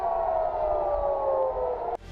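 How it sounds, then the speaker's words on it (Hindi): An Iron Dome air raid warning siren holds a steady, loud wail for about two seconds and then cuts off abruptly. "इसके बाद ये सिस्टम इलाके में एक सायरन बजाता है"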